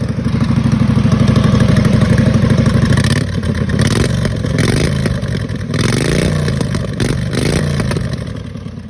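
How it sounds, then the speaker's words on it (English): A race lawn mower engine revs through its exhaust up close, a loud throaty chug that holds high, then drops and swells in several throttle blips and rises over about nine seconds. "I'll let you hear the exhaust."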